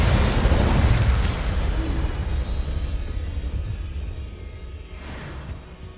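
Incendio fire spell cast in the Hogwarts Legacy video game: a loud burst and roaring whoosh of flame that slowly fades, with a faint crackle near the end.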